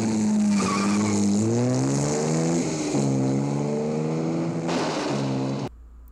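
Engine of a 1960s Toyota 2000GT, loud and close, revving in rising and falling sweeps with a tire-squeal edge, then cutting off abruptly.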